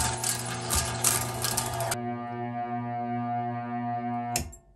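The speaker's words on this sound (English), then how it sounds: "I feel like this will clog the grinder something awful." Meat grinder churning through a box of crayons makes a loud grinding, scraping burst for about two seconds, then runs on as a steady motor hum before a final clattering crunch.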